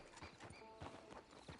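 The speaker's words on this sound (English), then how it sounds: "Get on the horse there." Horse hooves clip-clop in a steady rhythm of close, even steps, heard alone with no talking, as a horse sets off in a video game.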